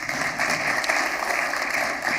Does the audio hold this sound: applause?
yes